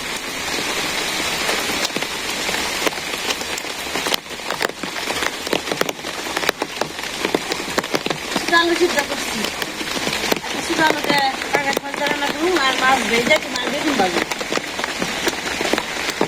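Rain falls steadily on surfaces nearby, a dense continuous patter, while someone talks over it in the foreground for much of the time.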